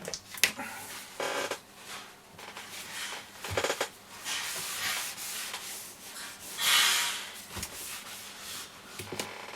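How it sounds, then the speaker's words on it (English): Buffing the dial plate of a Roberts R600 radio: uneven bursts of soft rubbing and swishing friction, close and fairly quiet, pausing and restarting in irregular strokes. "even buff the dial plate up as well"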